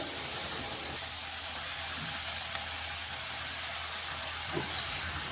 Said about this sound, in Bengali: তেলটা গরম হয়ে গেছে, আমি আলুগুলো এবার দিয়ে দেবো।